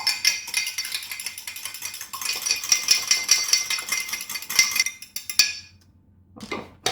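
Metal whisk or spoon clinking rapidly against a bowl while egg yolk is mixed into cream, a steady run of close, bright scraping clinks that stops abruptly, followed by a brief final rattle.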